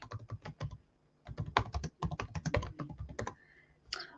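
Rapid keyboard typing in uneven bursts, with a short pause in the middle, close and fairly crisp.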